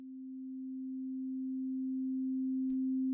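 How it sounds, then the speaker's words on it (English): A Teenage Engineering OP-1 synth holds a single pure steady tone with a quick attack for about three seconds, quiet and alone, ending with a brief click. "So you can hear this is a quick attack, whereas this would be a slow attack."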